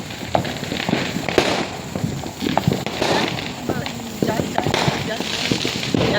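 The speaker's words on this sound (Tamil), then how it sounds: "எல்லாம் பெரிய பெரிய பட்டாசுலாம் அடிக்கிறாங்க" Big firecrackers bursting in a scattered, irregular series of sharp cracks and pops, some near and some farther off, with people talking throughout over the continuous crackle.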